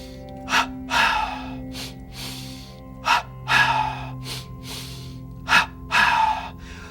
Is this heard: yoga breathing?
yes